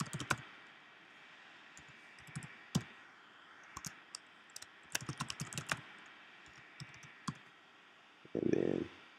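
A database user password typed on a computer keyboard, scattered bursts of sharp key clicks with pauses between, closing on a louder thump of a key press, quiet and close with no talk.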